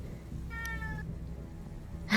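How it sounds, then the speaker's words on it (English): A cat lets out a short, thin meow over a low background hum, followed by a brief louder burst at the end. "They sound like meows"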